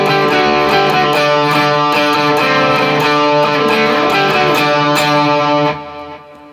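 Electric guitar playing a riff, a loud, ringing, effects-laden line of sustained chiming notes with rhythmic picked accents, fading out at the end.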